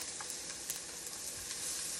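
Fresh garlic sizzles in hot oil, a close, steady crackling hiss with small popping spits throughout.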